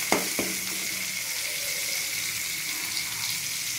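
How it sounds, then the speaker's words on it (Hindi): Chopped onion frying in hot mustard oil for vegetable rice, a steady close sizzle with a couple of sharp clinks near the start and no talking. "अभी यहाँ पे मैंने एक ऑनियन काट के रखा है, वो ऑनियन का भाजी करने के लिए लगा देता हूँ"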